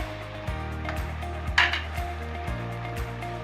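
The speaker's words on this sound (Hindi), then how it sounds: "अब अच्छे से हम इसकी भुनाई करेंगे" Minced meat (keema) with spices being roasted and stirred in a pan for keema biryani: steady sizzling under repeated scraping strokes of a spoon against the pan, each stir landing about every half second, close and clear.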